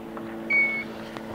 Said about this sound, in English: Beeps to let you know it's on.